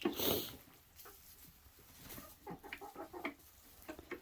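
Chickens cluck in short irregular bursts nearby, with a louder squawk at the start and a scratchy patter underneath.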